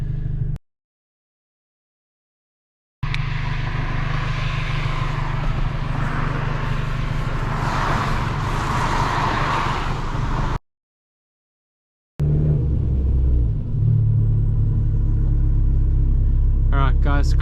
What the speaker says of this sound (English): Here comes 2 cars.